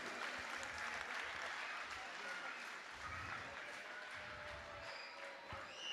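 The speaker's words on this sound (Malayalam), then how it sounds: "കൈയടിച്ചുകൊണ്ടേയിരിക്കുക" An audience at an Onam 2023 cultural event claps continuously, a dense and fairly distant wash of applause that lasts the whole stretch.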